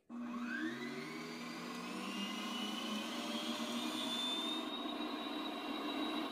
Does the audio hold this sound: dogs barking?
no